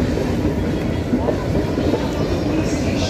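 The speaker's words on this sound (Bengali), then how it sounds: "পিছন দিয়ে দেখো ট্রেন যাচ্ছে" A train runs past behind a seating area where people wait, its steady low rumble close and continuous with no speech over it.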